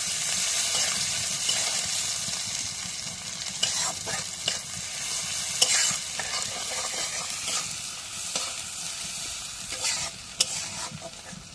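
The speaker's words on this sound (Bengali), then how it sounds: "এখন তেল দিয়ে দিই। পেঁয়াজটা একটু নাড়া দিয়ে দিই।" Onion frying in oil and being stirred: a constant close sizzle with scraping stirs and occasional sharp clinks of the utensil against the pan.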